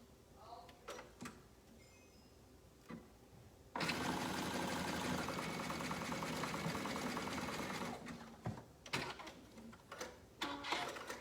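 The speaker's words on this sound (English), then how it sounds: "I'm going to go ahead and stitch a tag on the back" A sewing machine stitches a tag onto the back of a girl's swimsuit, over the elastic, in one steady run of about four seconds, flanked by handling clicks and fabric shuffling before and after.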